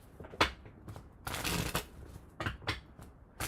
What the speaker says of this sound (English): so shuffling again